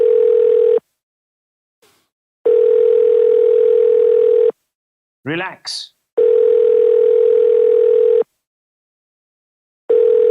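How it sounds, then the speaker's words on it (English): A Skype call rings out with a steady electronic tone in long on-off bursts. The tone is loud and near, and a short spoken word and a brief chirpy sound fall into one of the gaps. "It's ringing."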